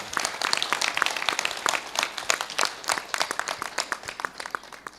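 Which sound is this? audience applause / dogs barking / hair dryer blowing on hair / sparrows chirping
audience applause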